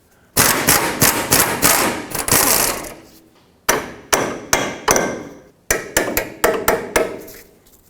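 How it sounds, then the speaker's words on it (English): A hammer strikes the strut fork on a 2004-2008 Acura TL during control arm bushing work, loud metallic blows in three rapid bursts of repeated hits separated by short pauses, close up and with no talking. "gonna hammer the fork for the strut forward so that I can have enough room for a tool in here"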